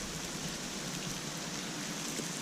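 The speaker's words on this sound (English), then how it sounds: "we're getting freezing rain." Freezing rain hisses steadily outdoors among sleet and snow, a dense, even patter that stays constant and fairly close with no voices.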